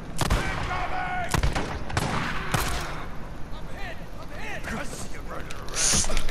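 Gunfire in the zombie-survival game Days Gone, several sharp shots scattered through a continuous noisy game mix, with someone talking over it throughout.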